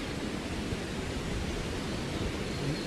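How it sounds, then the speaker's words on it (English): Steady, dense rushing water noise with no breaks, like a waterfall heard from some distance, filling the whole clip at an even level. "The sound of the waterfall in the background."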